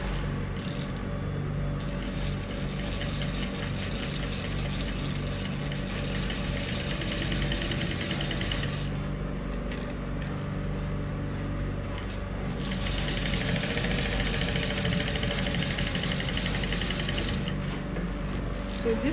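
A sewing machine runs continuously while stitching a corset bone channel, a steady close mechanical hum with faint rapid ticking, and stitching speed shifts slightly partway through.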